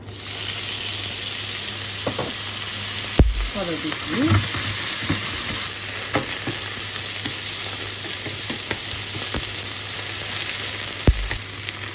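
Mushrooms fry in the same pan just used for chicken fillets, a loud, continuous sizzle with occasional utensil clicks and scrapes throughout; a voice speaks briefly over the frying.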